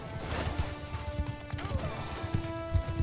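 Horse hooves pound in a fast, steady gallop during a Mount & Blade II Bannerlord battle, with thudding impacts close by under a dense, noisy game backdrop of combat sounds.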